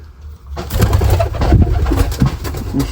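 A pigeon in a cage holding a chick gives repeated low, throaty coos close to the microphone, a soft rolling rhythm continuing throughout.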